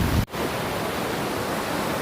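Rough river water at the East Fork rushes in a constant loud broadband roar, briefly cut by a short dropout near the start.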